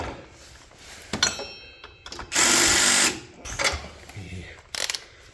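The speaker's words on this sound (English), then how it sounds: "Crappy DeWalt gonna whiz that out now." A DeWalt power tool whirs loudly in a short burst while spinning a bolt out of a mower engine, with brief clicks and clatter around it and some talk nearby.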